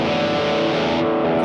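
An electric guitar note is picked with the neighbouring strings left unmuted, so a dense, slightly distorted ringing wash of extra strings and harmonics sustains continuously for about a second and a half.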